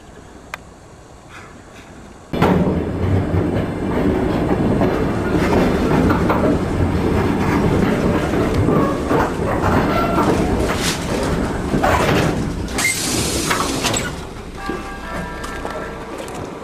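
A train at Valmiera railway station rumbles in loudly after a quiet start, steady heavy rolling with clanks and a sharp metallic squeal near the end, close by.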